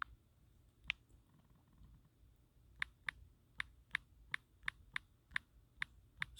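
Keys clatter on a computer keyboard: a couple of isolated taps, then a steady run of sharp, evenly spaced clicks in a quiet room, with no one talking.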